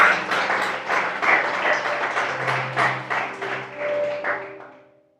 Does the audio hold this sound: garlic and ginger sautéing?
no